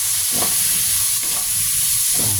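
Onion and tomato sautéing in oil for pork sinigang, a loud continuous sizzle close by with a few soft stirring scrapes.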